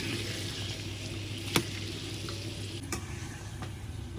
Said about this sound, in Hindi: तो माशाल्लाह जी, आलूओं को फ्राई कर लेंगे।